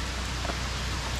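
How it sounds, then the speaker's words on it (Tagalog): Heavy rain falls on a mountainside near Barangay Palola, a dense, steady hiss of downpour with no pauses or voices. "inaabutan ng malakas na ulan sa bundok"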